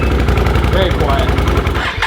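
A Can-Am Outlander 650 ATV engine runs nearby with a loud, even, rapid pulsing rumble, steady for about two seconds before a brief dip at the end.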